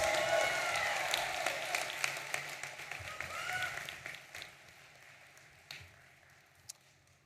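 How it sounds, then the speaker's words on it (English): A commencement ceremony audience at the University of Maryland applauds in a broad burst of clapping that gradually fades to scattered claps, heard from a distance in a large venue. "How about another round of applause of Johnny Holliday,"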